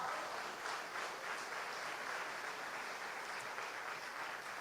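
Congregation applauding in a church, a dense, steady wash of many hands clapping at once, fairly faint and distant, sustained without pause.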